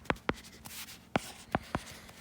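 Pen or pencil writing numbers on paper, a few sharp taps and short scratchy strokes close up with soft rubbing between them, no talking.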